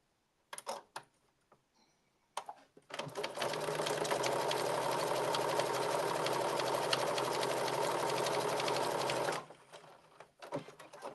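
Sewing machine stitching a blazer pocket: a steady, close motor whir with a rapid needle rhythm running for about six seconds, with a few short clicks and handling noises before and after.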